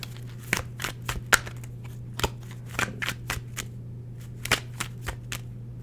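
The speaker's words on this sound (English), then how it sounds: "Just shuffling the cards." Tarot cards being shuffled up close, a series of quick riffling bursts at irregular intervals over a low steady hum.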